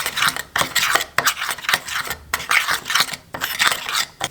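A utensil stirs a lamb chop marinade of olive oil and soy sauce in a bowl, making close, rhythmic scraping and clinking strokes in a quick, steady pattern.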